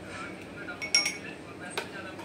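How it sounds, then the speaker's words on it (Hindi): Boba pearls being added into cups while making boba tea at home, heard as a few soft clinks and taps of a utensil against the cup, fairly faint and close, with quiet background noise. "अभी मैं जा रही हूँ बोबा टी बनाना। तो चलो उसमें मैं सबसे पहले बोबा डालती हूँ, डाल रही हूँ बोबा।"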